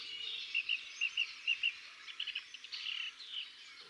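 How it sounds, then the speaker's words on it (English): Black-winged stilts in a sprawling wetland at Yala give thin, high chirping calls, first in quick paired notes, then in a looser run of sharper cries, fairly faint over quiet surroundings. "In the tranquil waters of a sprawling wetland, a pair of black-winged stilts make their presence known."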